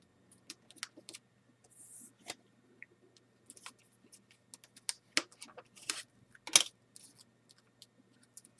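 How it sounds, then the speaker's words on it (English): Sheet of paper being folded for an origami squirrel, producing scattered soft crinkles, taps and creasing rustles, close and quiet, with gaps of silence between. "We're just going to fold that across"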